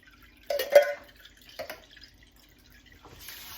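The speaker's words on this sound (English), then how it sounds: "So we also have to rinse the black beans." Canned black beans are rinsed under running water, a few short splashing and dripping bursts separated by quiet gaps, ending in a brief rush of water.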